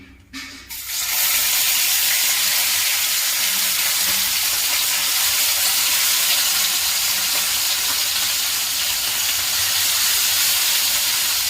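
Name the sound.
bata fish frying in hot oil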